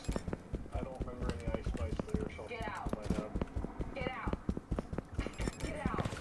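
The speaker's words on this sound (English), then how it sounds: "Footsteps." Footsteps in a first-person shooter game on a bomb-defuse map, a steady run of quick thuds heard under constant voice-chat talk among players.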